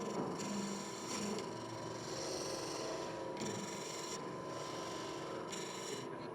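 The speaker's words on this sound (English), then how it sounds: "So it's standard end grain hollowing" A gouge hollows the end grain of green wood on a lathe, making a rough, rasping scrape that swells and fades in repeated strokes, close and continuous.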